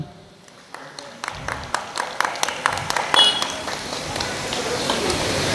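Audience at a Bhim Jayanti event begins clapping with scattered separate claps that build into steadier applause, with a voice audible over the early part.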